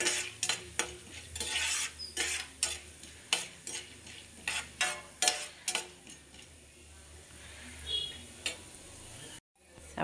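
Ingredients for curry leaf chutney sizzle in a pan while a spoon stirs and scrapes in sharp clattering strokes, close up, fading to a quieter fry toward the end.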